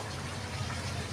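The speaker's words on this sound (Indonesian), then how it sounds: "gue buka keran drippingnya tuh" Well water trickles from a tap into a fish pond, a steady faint wash of running water with a low background hum and no gaps.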